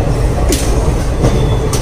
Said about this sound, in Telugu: ట్రైన్లో పోతున్నాం